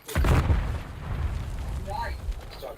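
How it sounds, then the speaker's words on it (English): Grenade explosions in the Black Ops 6 video game, one heavy boom followed by a rumbling tail and scattered smaller crackles. The blasts are fairly loud and mixed with game sounds. "stop killing me with grenades"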